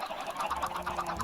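Minecraft chickens clucking in a short burst of rapid, nasal fowl calls, repeated several times in quick succession and heard up close and fairly loud.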